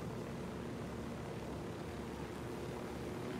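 A helicopter in a video game flies with a steady, dense rotor and engine roar that fills the whole stretch at an even, fairly distant level, with no talking.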